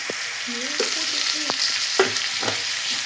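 Chopped green chillies and onions frying in a pan, a steady sizzle broken by several sharp scraping stirs and clicks of a spoon, close up with no voices.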